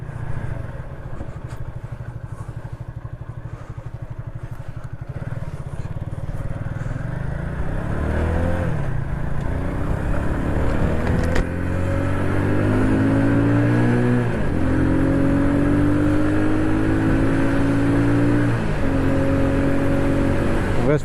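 A Romet WS50 49cc tuned moped engine drones steadily, then rises and falls in pitch through repeated revs and gear changes as it picks up speed while riding, close and loud.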